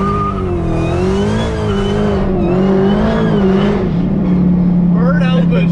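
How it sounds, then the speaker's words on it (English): A 1000-horsepower widebody Dodge Challenger Hellcat on Continental ExtremeContact tires launches in second gear, its engine droning loud and close as the pitch climbs and dips, then settles into a steady high whine, with people talking over it. "If you're going to do a full launch like that, you only launch the car in second gear"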